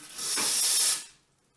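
The steam wand of a Bellezza Bellona dual-boiler espresso machine is purged in one short, loud burst of hissing steam lasting about a second before cutting off into quiet.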